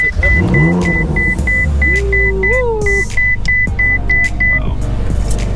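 Ferrari Speciale being started: a rapid electronic warning chime repeats over a loud, steady engine drone, with rising whine-like tones and a few clicks, close up.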